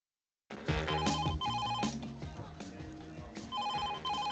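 A desk telephone rings in an office, its electronic bell trilling in repeated bursts with short gaps, loud and close with no talk over it.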